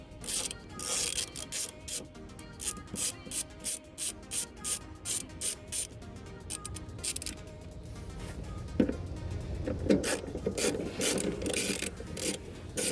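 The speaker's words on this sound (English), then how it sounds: "you're gonna need 10 mil socket to drop" Ratchet with a 10 mm socket backing out the EVAP canister mounting bolts under an MK6 GLI, a steady series of close, quick clicking bursts giving way to rougher rubbing and metallic scraping.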